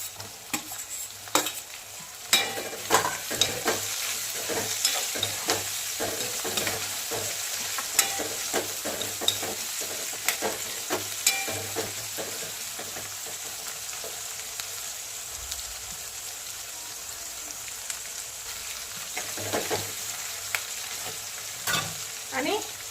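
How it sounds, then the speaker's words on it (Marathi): Potatoes, peas and tomato stir-fry in a pan for aloo matar pulao, with a soft continuous sizzle under repeated scraping and stirring clinks of a spatula against the pan, close and fairly quiet. "आणि फ्राय केलेला बटाटा मस्तपैकी फ्राय करून घ्यायचं, परतून घ्यायचं मस्त छान पैकी।"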